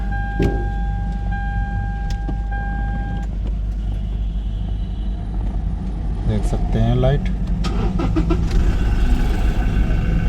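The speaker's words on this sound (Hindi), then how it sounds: "और गाड़ी को करते हैं स्टार्ट।" A Toyota Fortuner with traction and ABS warning lights on starts by push button: a hum and beeps precede the starter cranking and the engine catching into an idle, while someone talks throughout.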